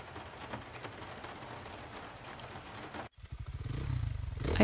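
Rain in the video game Moral Retrograde, steady pattering on a surface, then an abrupt cut into closer, rhythmic drumming and a rising motorbike rumble building at the end.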